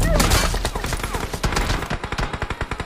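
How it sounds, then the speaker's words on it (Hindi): Suppressed AKM assault rifle firing on full auto in the battle game PUBG, a loud rapid string of muffled shots that settles into an even, steady rhythm toward the end, with no talk over it. "मैं AKM+6X चला रहा हूँ, वो भी सप्रेसर लगा के, वो भी ऑटो एकदम आराम से"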